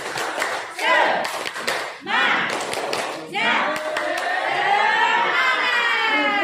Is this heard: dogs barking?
no